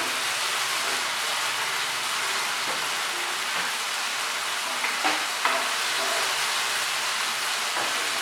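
Chicken pieces and pointed gourd (parwal) fry in a pan, giving a steady, even sizzle with a few faint clinks from stirring partway through, and no talking.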